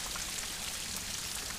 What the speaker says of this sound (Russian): Майский дождик называется.